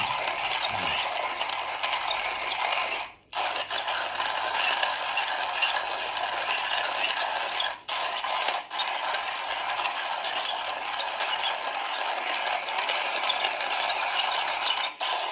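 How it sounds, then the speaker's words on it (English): Hand coffee grinder crushing beans: a continuous close crunching and rattling with a gritty mechanical texture and a few brief pauses, no voices. "I have a hand grinder because it's convenient if I want to brew from, if I want to do an espresso, or if I want to do a filter"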